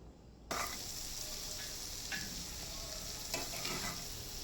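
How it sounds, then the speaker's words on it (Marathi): Cooked kantola, spiny gourd, is scooped out of the pan after the gas is switched off, giving a soft continuous sizzle with a few spoon scrapes against the metal, close and quiet with no voices. "तर आता गॅस बंद करून भाजी काढून घेऊया"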